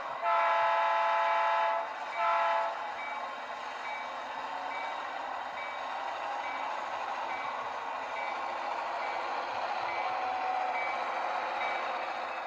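A model train's horn blasts twice near the start, one long and one short, then the train runs on with a steady hum and faint, regularly repeating electronic beeps.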